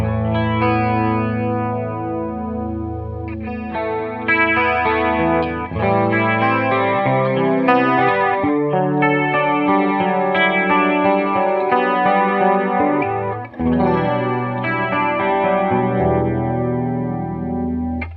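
A PastFx 80/A flanger pedal, its range turned up and detuned to mimic a chorus, shimmers over sustained, overlapping harmonic notes, a thick swirling wash that carries on unbroken without any voice.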